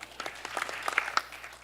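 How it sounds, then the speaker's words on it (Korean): A short burst of scattered applause from a crowd at an idea competition presentation, fairly faint and over in under two seconds. "다시 한번 큰 박수를 부탁드리겠습니다"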